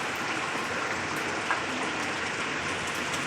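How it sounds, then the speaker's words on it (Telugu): A wind and rain storm lashing outside a village house during the hot season, a dense, even rush of rain and gusting wind heard from indoors, steady throughout with no talk. "గాలి వాన కొడుతుంది,"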